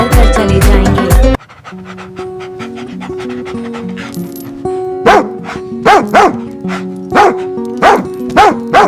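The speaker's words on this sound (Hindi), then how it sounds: "उनको देखकर जोर जोर से भौंकने लगे" A dog barks loudly and repeatedly in sharp bursts, close by, after a short stretch of music at the start.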